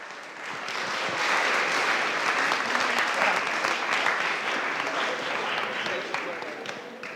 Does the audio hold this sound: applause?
yes